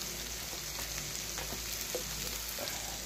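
Spice paste sizzles steadily in a hot pan with salt mixed in while a little water is added, a continuous close frying hiss with light stirring clicks and no voices.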